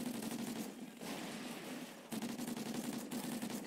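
Drop-shot gunfire in Call of Duty Ghosts, rapid automatic bursts that rattle in quick succession, fairly faint, with short gaps between strings of shots.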